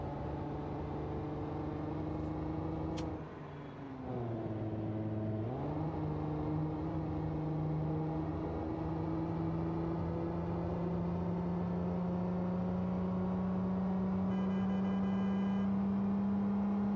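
A slow V6 car engine drones steadily while driving in the BeamNG driving game, its pitch dipping briefly then climbing and holding as it strains at speed, loud and continuous with no talk over it.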